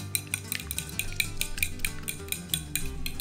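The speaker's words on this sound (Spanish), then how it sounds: "Sazonamos los huevos con sal y agregamos las hojitas de epazote y los batimos." Eggs seasoned with salt and fresh epazote leaves are beaten in a bowl, giving a fast, steady run of bright utensil clinks and scrapes against the dish over a low background hum, with no one speaking.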